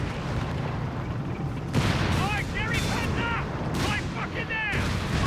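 Marder tank destroyers fire Pak 36R guns in a Company of Heroes 3 battle, with repeated booming shots and whistling shells amid game noise and a talking voice.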